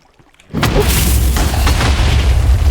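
A loud Minecraft explosion bursts in suddenly after a brief quiet start, then a dense, rumbling roar of blast debris holds steady for a couple of seconds.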